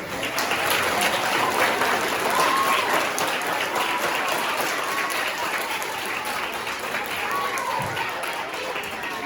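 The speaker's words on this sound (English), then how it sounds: "Let's give them a big round of applause." Loud, continuous audience applause at a school spring concert, a dense crowd clapping steadily throughout with faint voices and whoops mixed in.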